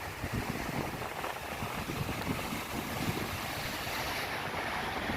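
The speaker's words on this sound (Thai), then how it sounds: "ก็คลื่นก็ไม่แรงนะครับ ไม่แรงก็เรื่อยๆนะครับ" Gentle morning sea waves washing onto Phayun beach in Ban Chang, Rayong, a steady soft roar with wind noise on the microphone throughout.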